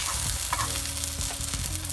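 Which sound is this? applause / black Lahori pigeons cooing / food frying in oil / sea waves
food frying in oil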